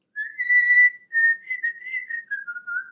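A person whistles a simple melody alone, clear and close, in a series of sustained notes and short phrases with small gaps between them.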